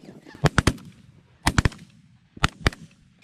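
Shotgun blasts during a duck hunt fired over decoys, in three quick volleys of two or three sharp, loud reports each, with a faint background of duck and goose calls.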